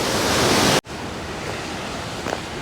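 A waterfall in Indonesia beside rocky pools rushes as a loud, steady broadband roar that cuts off abruptly, then continues as a softer, even wash of water noise.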